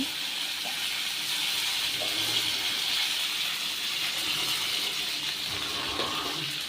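Continuous crackling, hissing spatter of mustard seeds popping in hot oil, steady and close throughout with faint intermittent clicks.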